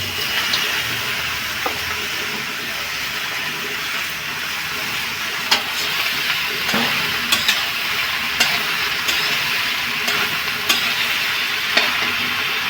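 Bottle gourd pieces sizzle continuously in a hot pan for a Bengali lau bori dish, with occasional sharp scrapes and clicks of stirring over the steady frying hiss.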